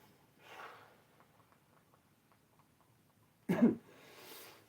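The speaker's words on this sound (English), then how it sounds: "I really don't have the time to be coughing right now" One sharp, loud cough bursts out near the end after a mostly quiet stretch, with only faint breathy noise before it.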